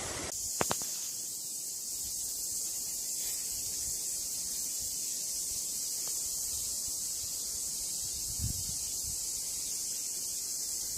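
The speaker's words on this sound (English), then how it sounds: "You can hear the cicadas." Cicadas by a river make a continuous high, sizzling drone that holds steady throughout, with a few faint knocks and rustles beneath it.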